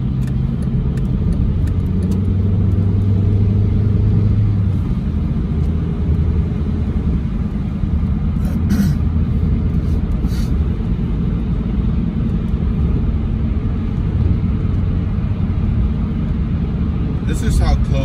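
Steady interior road rumble from a car on a morning commute, a constant low drone with tire noise throughout and a couple of brief knocks.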